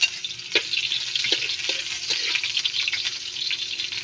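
Onion sautéing in a pan, beginning to burn, a soft, close hiss of frying with a few faint scraping stirs and no talk.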